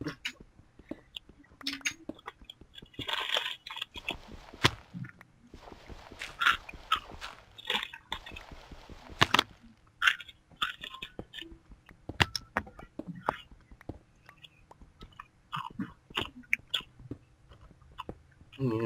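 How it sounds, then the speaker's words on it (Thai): Close, crisp crunching bites and chewing repeated irregularly, with brief snaps and pauses between mouthfuls. "เสียงเคี้ยว"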